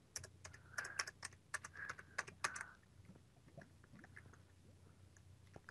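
Quick bursts of typing on a computer keyboard during a game session, light clustered clicks clattering up close at the start, then thinning to sparse faint taps over a low background hum.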